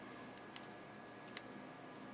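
Scissors cutting a piece of dimensional adhesive foam in half during paper crafting, a few faint, quick snips close by in an otherwise quiet room.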